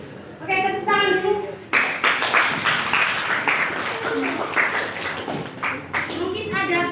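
A classroom group claps together in a steady burst of applause, with children's voices and talk mixed in before and after the clapping.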